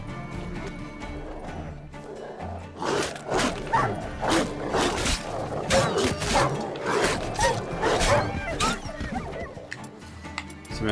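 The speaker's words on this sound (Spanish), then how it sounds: "Perros salvajes." Wild dogs bark in The Witcher 3, a cluster of rough, overlapping barks and yelps coming in rapid bursts at moderate volume over a busy game soundscape, with no clear talking.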